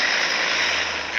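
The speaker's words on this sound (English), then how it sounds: "NYPD choppers with searchlights were up over the Bronx tonight" Aircraft engine drone from NYPD helicopters searching from above the Bronx at night, a steady, loud, broadband whir with no gaps for the whole stretch and no talking.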